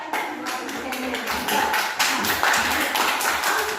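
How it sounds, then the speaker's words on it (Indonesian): A class group claps for a student presenter in a classroom, a dense patter of many hands filling the whole stretch at steady loudness, with some voices mixed in. "tepuk tangan buat Nobela ya"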